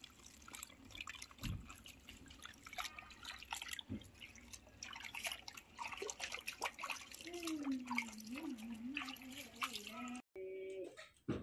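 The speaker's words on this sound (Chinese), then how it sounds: "把这再洗一遍。" Leafy greens being rinsed by hand in a basin of water, with steady splashing, dripping and trickling throughout, a couple of sharp low knocks, and brief voices near the end.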